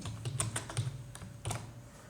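Code is typed on a computer keyboard in a quick, irregular burst of close, light key clicks, with short pauses between small clusters of keystrokes and no talking.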